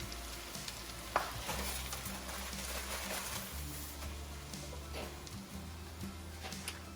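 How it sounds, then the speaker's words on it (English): Potato latkes fry in a pan of hot oil, a steady close crackling sizzle with occasional louder pops and a faint low hum underneath. "you want them floating in oil, and you want to constantly keep that oil hot because that's when they cook the best and the fastest"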